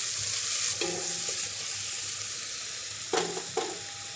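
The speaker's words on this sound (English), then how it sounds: "Add any onions, garlic, or other ingredients, and sauté" Onions and garlic sauté in fat for risotto, making a soft steady sizzle. A few sharp clatters and scrapes of stirring come through close by, with no voices.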